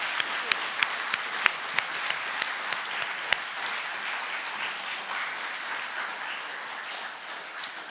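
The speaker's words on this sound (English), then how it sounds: "please join me in giving one last round of applause to our Beatty lecturers tonight" Applause for the Beatty Lecture speakers rolls through a hall, with several loud, distinct claps punctuating it early before the clapping settles into a steadier, gradually thinning wash.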